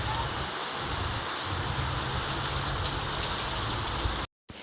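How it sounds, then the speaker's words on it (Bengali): Heavy rain pours onto a flooded street where the water runs like a river current, a dense, steady hiss that drops out briefly just before the end. "বেরোনোর উপায় নেই দেখুন বৃষ্টি হয়েই যাচ্ছে"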